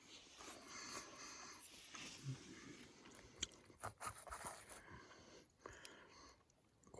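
Someone chews a freshly cooked campfire snack on a solo canoe trip, with soft crunching and wet mastication sounds close to the microphone, faint and irregular against quiet outdoor background.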